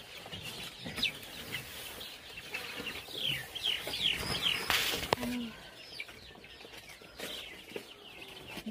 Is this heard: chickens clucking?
yes